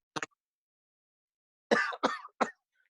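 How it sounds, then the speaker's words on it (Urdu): A single short cough, a pause, then three quick coughs in a row, close and fairly loud against silence. "مجھے خود اصل میں کھانسی ہو رہی ہے"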